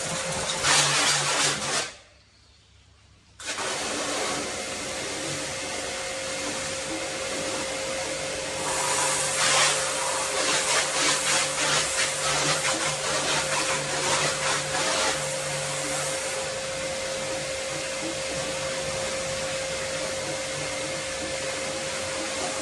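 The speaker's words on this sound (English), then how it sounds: "my first job is to wash this entire car with this water jet" A high-pressure water jet hisses loudly and continuously as it sprays a BMW car, cutting out briefly near the start before resuming, with steady spray noise and a faint hum beneath.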